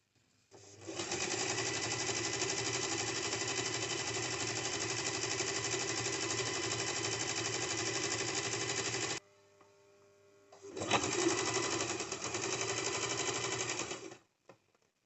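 A sewing machine runs in a long, even whir while stitching cigar pants, stops briefly, then resumes for a few more seconds, close and alone.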